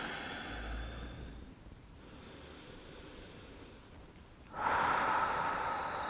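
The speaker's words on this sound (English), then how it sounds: "Big deep breaths." Slow, deep breaths drawn in and let out during a yoga session, a soft airy inhale giving way to a louder, rushing exhale near the close, with no talking over it.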